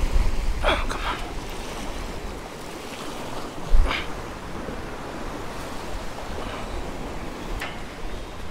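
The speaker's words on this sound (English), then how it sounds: "I gotta kind of wait for a swell to come in." Continuous ocean surf rolling onto the beach at Surfside, Texas, with waves washing in and breaking, plus wind buffeting the microphone and a few brief splashes and thumps.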